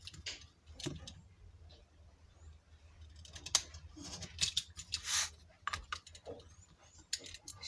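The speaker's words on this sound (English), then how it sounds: "now we can now trim off the four corners" Scissors snip the four corners of a transparent cake box, giving a series of crisp, close cuts and clicks scattered irregularly over a few seconds, with no talking.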